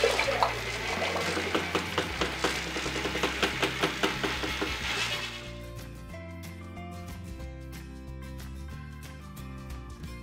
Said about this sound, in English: Carefully mix materials.